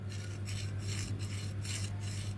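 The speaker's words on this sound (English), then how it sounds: "So if you get your file, and I just use my thumb as a guide here," A hand-held metal file chamfers the edge of a spoon-handle arrow ring in a series of quiet, even rasping strokes, about one every half second, over a steady low hum.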